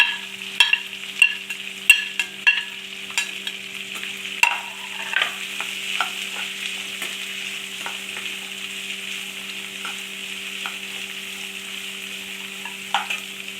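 Shallots and onions frying in a pan for a home-made mutton gravy: a steady sizzle with frequent stirring scrapes that are louder at the start, then a quieter continuous fry, close by, with no talking.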